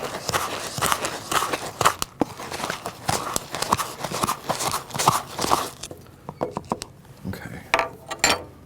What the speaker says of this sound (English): We'll give those a quick stir.